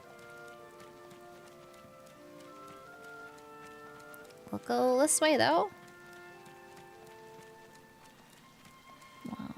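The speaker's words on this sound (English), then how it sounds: "right now we're in the rain, where it looks kind of dreary" Steady rain falls in Atelier Ryza, a soft, even patter under game music, with a person speaking briefly partway through.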